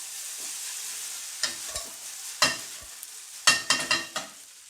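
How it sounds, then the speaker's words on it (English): Cabbage sautés in Irish butter, a soft steady sizzle broken by several scraping stirs and clanks of a utensil against the pan. "We're going to saute it in some Irish butter."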